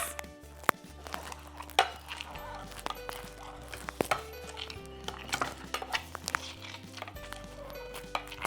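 A muddler pounds honeydew melon and pink peppercorns in a glass for a gin cocktail, giving repeated irregular clacks, scrapes and knocks of glass and utensil, fairly faint with low background hum.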